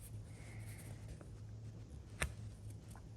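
A pen draws a cutting line across craft material in a quiet room, a faint scratchy stroke with a soft tap partway through.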